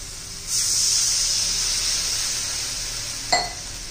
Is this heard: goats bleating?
no